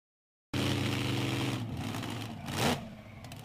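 The Bigfoot 10 monster truck running on beach sand, starting abruptly with a loud engine roar that surges once, then settles lower with some crowd or background noise.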